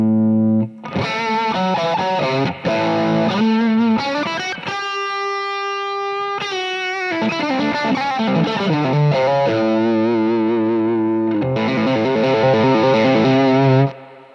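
Distorted electric guitar through a 100-watt amp attenuated down to 7 watts with a power soak, playing saturated, compressed chords and riffs with one sustained bent note in the middle, loud and close with no talking.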